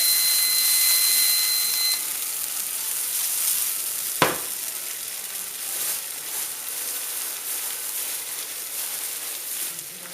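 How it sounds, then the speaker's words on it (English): Sauce sizzling in a hot pan straight from the oven, a steady soft hiss with one sharp clank partway through, no speech. "Then into that hot pan. Going to warm a little bit of our sauce."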